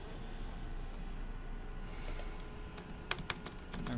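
Someone types on a computer keyboard during web design work, with a few sharp, close key clicks coming near the end over a quiet room hum, and no one speaking.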